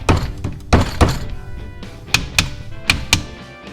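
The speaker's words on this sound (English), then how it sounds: "Hitting it with a rubber end." Rubber end of a mallet knocking on a Harley-Davidson motorcycle part: a series of about eight dull, solid thunks, loud and close, in uneven bursts with short pauses.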